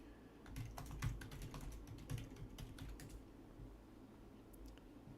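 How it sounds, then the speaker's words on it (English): Keys clatter in quick, irregular bursts on a wireless computer keyboard, quiet and close, before fading to faint room noise near the end. "stupid wireless keyboard."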